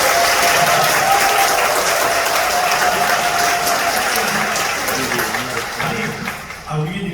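An audience claps at a church anniversary praise concert in a large hall. The applause is dense and sustained and slowly thins toward the end, and a few voices can be heard beneath it.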